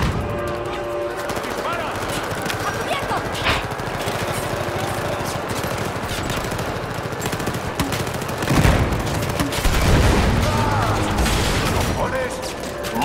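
Dense rapid gunfire and grenade explosions in Battlefield 4, continuous and loud, with heavier booms around the later part.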